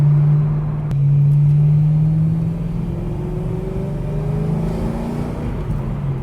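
An E9X BMW M3's exhaust drones and rumbles from inside the cabin, pitch rising and falling smoothly as the car accelerates and eases off.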